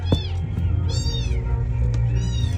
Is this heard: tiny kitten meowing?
yes